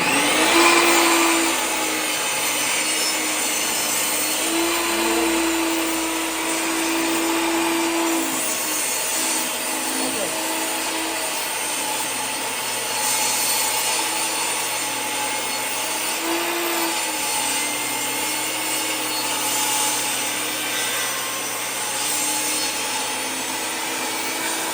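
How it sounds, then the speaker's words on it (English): A power tool rounds over the edge of a scrap wood board in a workshop, a loud continuous whine and rasp lasting the whole stretch with slight pitch dips as the cutter loads and eases, no voices. "First thing, we're taking some roundover off of our scrap board."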